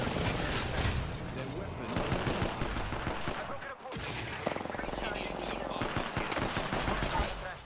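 Rapid automatic gunfire and explosive bursts pound almost continuously during an Apex Legends match, dense and loud with a brief gap near the middle, mixed with game sound effects.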